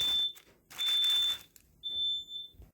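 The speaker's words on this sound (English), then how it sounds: "And now the smoke alarm 2 rooms away went off, and we had to shut that one off too." A smoke alarm sounds in three shrill high-pitched beeps from a distant room, each followed by a gap, with faint household noise in the background.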